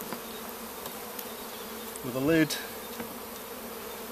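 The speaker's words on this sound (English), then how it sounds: "the bees will come up through the entrances over the side and then take the sugar syrup from the container" Honey bees at a plastic rapid feeder of sugar syrup on a hive make a faint, steady buzz, with one bee swelling louder as it passes near, and a voice speaks briefly.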